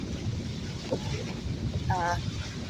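Sailing catamaran running under motor in the wind, a steady low engine drone and rushing wind noise buffeting the microphone, with faint water wash and a brief tonal squeak partway through.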